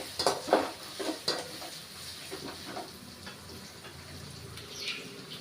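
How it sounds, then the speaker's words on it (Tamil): Big onions sautéing in a pan for egg rice, with a low steady sizzle and a few sharp scrapes and stirs of a utensil early on, fading to quieter frying, no talking. "பெரிய வெங்காயம் நல்லா வணக்கி விட்டுலாம்"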